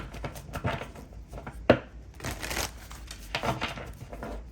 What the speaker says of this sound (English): Let me go ahead and do another shuffle here